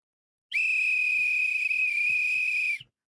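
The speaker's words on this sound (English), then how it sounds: "I stepped on the doggone whistle" A referee's whistle, stepped on during an NFL divisional playoff broadcast of Broncos vs Bills, lets out one sustained shrill squeal lasting over two seconds, loud and steady, with faint low thumps underneath.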